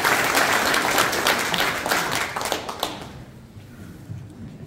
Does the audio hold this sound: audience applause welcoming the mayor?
yes